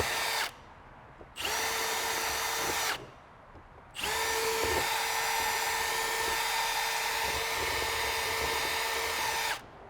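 A power drill bores holes into a Sprinter van dashboard while mounting a dashboard bracket, whining loud and close in three runs: a short burst, another brief run after a pause, then a long sustained spin.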